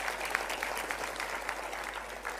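Audience applause at a live Rajarshi Shahu Maharaj 150th birth anniversary event, moderate and steady, with a light patter of claps throughout and no voices over it.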